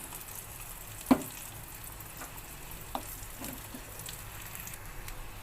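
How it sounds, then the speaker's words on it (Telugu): Asafoetida sizzling in hot oil in a pan while cooking a beans fry, a faint continuous crackle with a couple of sharp clinks and light stirring taps. "అలాగేను ఇందులో నేను కొద్దిగా ఇంగు వేసుకున్నాము."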